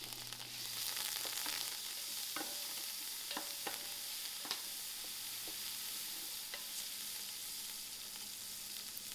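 Onions, ginger garlic and spices frying in a pot over an outdoor wood fire, giving a steady close sizzle with occasional sharp crackles and stirring clicks throughout, no voices.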